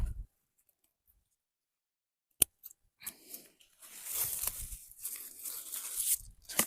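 Old diseased strawberry leaves being trimmed, heard as a sharp snip after a silent start, followed by rustling, tearing and crackling of leaves close by.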